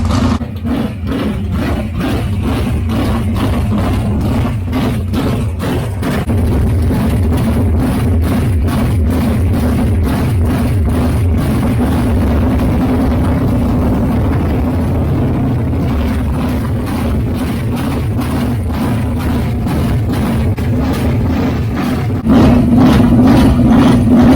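A big methanol-burning, mechanically fuel-injected engine idles with a rough, loping beat, a steady rhythmic chugging rumble heard up close with no talking.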